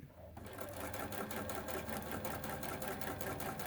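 A sewing machine stitches fabric binding onto a placemat, its steady fast needle rhythm starting after a brief pause and running loud and continuous close by.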